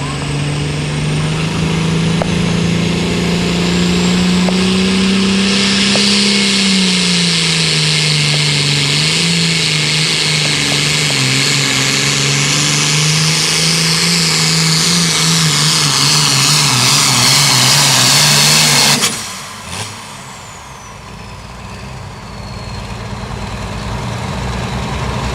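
The Green Beaver 2 pulling tractor roars loudly through a competitive full pass at an NTPA tractor pull in Hopkinsville, Kentucky, its engine pitch wavering under load before abruptly cutting off near the end, leaving fainter crowd ambience.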